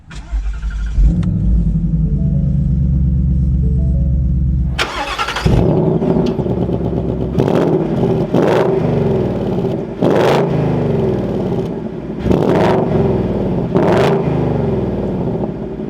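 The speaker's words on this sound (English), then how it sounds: "But now let's go ahead and fire this up. With my foot on the brake and the clutch, we have that red engine start stop button down below." A Ford Mustang GT Convertible Premium engine fires up with a sharp starter catch, then settles into a steady idle broken by a series of loud, punchy throttle blips and revs, heard up close with no talking.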